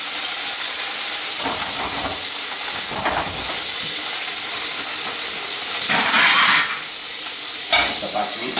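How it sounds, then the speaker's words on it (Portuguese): Apple pieces caramelizing in butter in a hot pan give a steady, loud sizzle with bursts of steam hiss and intermittent spoon scraping and stirring, continuous throughout with no talking. "Agora vamos caramelizar a nossa maçã. Vamos utilizar uma colher"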